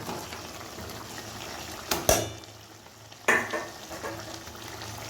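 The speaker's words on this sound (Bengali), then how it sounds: "এরপর আমি এতে ভেজে রাখা আলুগুলি দিয়ে দেবো" Fried potatoes tipped into a pan of browned meat for a spiced potato-and-meat curry, giving a low steady sizzle broken by two sharp scraping stirs in the middle, close and clear with no voices.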